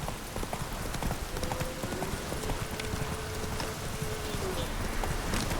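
Horse hooves clip-clop in a steady trotting rhythm as a horse is ridden along a road in Witcher 3, close and continuous beneath background game ambience and occasional speech.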